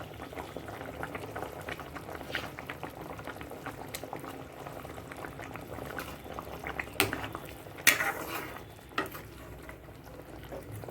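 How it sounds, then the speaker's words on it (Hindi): Sweet potato kofta curry boils in a pot, giving a steady close bubbling with a few sharper pops and spoon clinks, and no talk. "1-2 उबाल और आ गए हैं"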